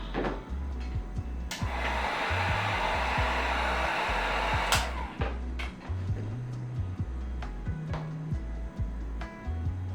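A heat gun heating glue to soften it on a custom PC build, a steady close blowing hiss that surges louder midway, with scattered small clicks and taps of a scraper tool.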